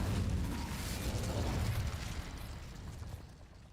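Incendio fire spell cast in Hogwarts Legacy, with a deep rumbling whoosh of flame that bursts loud at once and then slowly fades out over a few seconds.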